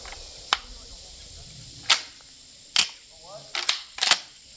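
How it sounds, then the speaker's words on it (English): Mac 1014 shotgun firing Winchester white box 1200 feet per second loads, five sharp reports spaced irregularly, with two quick pairs near the end, loud against a quiet outdoor background. "let's see if we can get this shotgun to run the 1200 feet per second Winchester"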